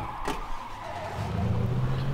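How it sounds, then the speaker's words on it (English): A car passes in an online video game, a rising engine drone that swells and grows louder toward the end, with no talk over it. "That's a car."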